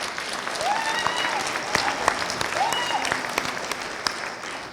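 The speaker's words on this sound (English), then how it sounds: "Give a round of applause to those." Warm, sustained applause from the audience at a spring university graduation ceremony, dense clapping that fills the room throughout, with faint voices mixed in.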